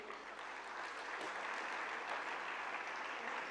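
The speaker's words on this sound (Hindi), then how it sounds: "तो एक बार अपने लिए जोरदार ताली बजाएं।" An audience at a motivational speech event claps loudly and continuously, a dense wash of applause that holds steady throughout.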